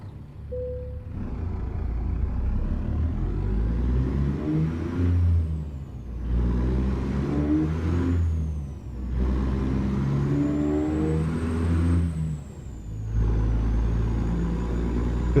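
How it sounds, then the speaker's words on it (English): Steady low diesel drone of a MAN truck engine in American Truck Simulator, held at an even pitch with slight rises and dips, loud and continuous with a faint rising whine above it. "You using the man engine?"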